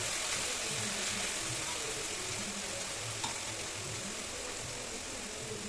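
Chicken and mustard greens are stirred in a hot pan, giving a steady, even sizzle of frying that continues without a break.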